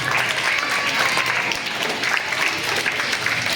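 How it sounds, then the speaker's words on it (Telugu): Parents at a school Sankranti celebration clap together in steady, dense applause that holds at an even level from start to finish, with no voices rising above it. "ప్లీజ్ ఇవన్నీ గట్టిగా క్లాప్స్ కొట్టాలి మీరు అందరూ కూడా"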